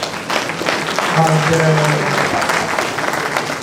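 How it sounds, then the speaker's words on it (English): An audience at a university staff meeting gives a round of applause for staff members, steady clapping throughout with a brief spoken word and a short hum-like tone heard under it midway. "I think we can give them a round of applause"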